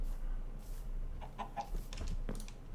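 Minecraft chickens in the Forgecraft modded game cluck in a few short, close calls over a steady low background drone.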